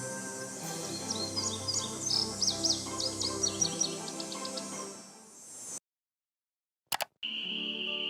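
Birds chirping in Nancy Drew: Ghost Dogs of Moon Lake, bursts of bright tweets over a soft ambient bed with insect-like buzz, then a sudden cut to silence and brief flickers of sound.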